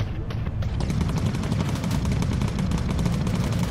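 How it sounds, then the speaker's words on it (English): Rapid cannon gunfire from a World War II bomber in the game Bomber Crew, a dense, continuous rattle of shots that stays loud and steady for the whole stretch with no pause. "Look at the sound of that cannon"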